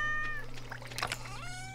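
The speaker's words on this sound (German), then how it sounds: "Kätzchen!" A cat in the Stardew Valley farming game gives a short meow that rises and falls over light background game music and a faint trickle of water.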